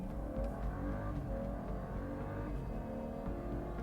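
A 2014 BMW 435i M-Sport accelerates with its 8-speed ZF automatic gearbox, a faint, steady engine hum that keeps climbing and dips briefly at shifts, heard from inside the car.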